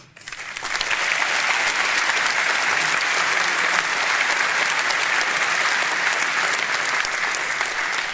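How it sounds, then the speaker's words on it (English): Loud, sustained applause fills the room at a Reform UK rally in East Riding, Yorkshire, swelling quickly after a brief quiet start and holding steady as a dense crowd of clapping throughout. "We're just getting huge applause in the room this evening"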